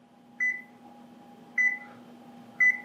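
Convection oven timer chirping three short electronic beeps spaced about a second apart over a low steady appliance hum, close and clear in a home kitchen.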